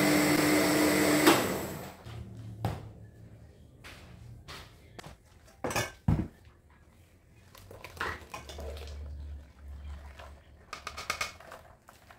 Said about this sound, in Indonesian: Ini ya, kita akan blender supaya jadi santan.